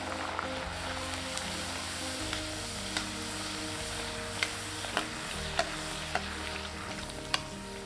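Tomato masala poori deep-frying in hot oil, a steady close bubbling sizzle with occasional sharp clicks of a ladle pressing and turning the dough, no talking.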